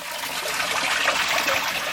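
A small in-pond pump jets water to wash algae and white residue off surfaces in a koi pond, giving a steady, loud rushing spray throughout.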